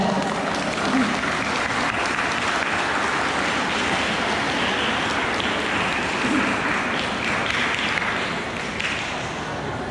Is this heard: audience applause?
yes